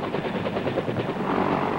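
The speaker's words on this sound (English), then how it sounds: "Suddenly, the lead aircraft receives enemy ground fire." Enemy ground fire aimed at a lead attack helicopter during a Vietnam-era mission, a dense, steady roar of rotor and gunfire noise that swells slightly louder toward the end, with no voices.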